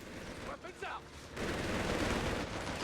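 Machine gun fire in the WWII strategy game Company of Heroes 3 during a 1v1 tournament match, a dense rattling burst of gunfire that swells after a short quieter stretch and keeps going steadily under the game's battle noise.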